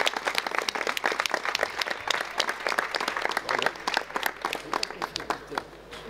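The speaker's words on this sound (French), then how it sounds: "Vous pouvez tous l'applaudir." Audience applause at a gathering, a moderate crowd clapping with distinct overlapping hand claps, fairly steady and slightly easing toward the end.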